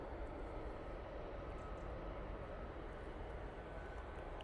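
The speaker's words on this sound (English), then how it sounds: "Air France A220 making its way out." An Air France A220 airliner departs, a steady distant broadband engine roar that holds evenly throughout with no breaks.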